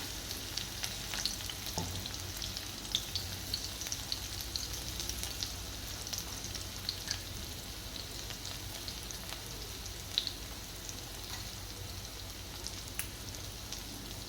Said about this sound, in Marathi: वरण तेल गरम झाल्यानंतर टाकायचं जिरे